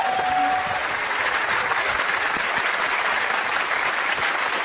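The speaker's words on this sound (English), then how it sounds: "Give her a round of applause." A television talk-show studio audience applauds, a dense, steady clapping that carries on without pause for several seconds.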